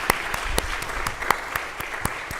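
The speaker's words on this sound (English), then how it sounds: "I think they need another round of applause." A congregation at a Sunday morning service claps in a short burst, the separate hand claps sharp and fairly close in a loose, uneven rhythm, with no voices over it.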